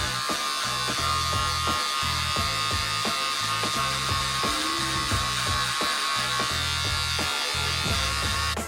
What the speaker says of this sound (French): on prend le sabot 3 mm juste au-dessus et toujours clapet ouvert pour dégrossir